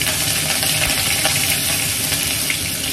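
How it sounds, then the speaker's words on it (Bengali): Green chillies tempered in hot frying oil in a home kitchen, giving a loud, dense, steady hiss of sizzling throughout with no talking. "এবার দিয়ে দিলাম কতগুলো কাঁচা লঙ্কা ফোড়ন"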